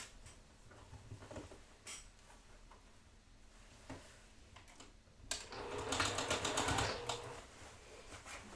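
Sewing machine stitching down a quilt seam, quiet intermittent bursts of mechanical whirring with a louder, denser run near the end amid faint handling noises.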